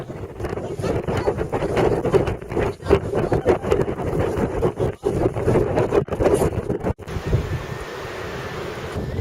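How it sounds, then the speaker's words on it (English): Strong gusty wind at the coastal cliffs of Cape Point buffets the microphone in loud, rough bursts with brief dips, then eases into a steadier, calmer rush near the end. "Cape Point, which proved to be a very windy vantage point"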